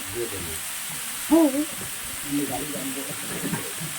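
Cumin and turmeric powder fry in a pan for an egg curry, a steady soft hiss running throughout, with brief tonal murmurs rising over it now and then.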